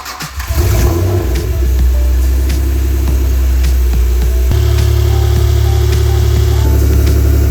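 Honda NA2 car engine cranks and fires on its first start after a 90k timing belt service, then settles into a loud, steady idle with a slight rise in pitch partway through.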